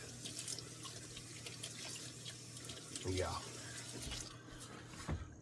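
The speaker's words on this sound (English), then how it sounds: "I always have dish water going when I'm cooking." Kitchen sink tap running to fill dish water, a steady close hiss of flowing water with splashing and a brief gurgle, under a quiet voice and light kitchen clatter.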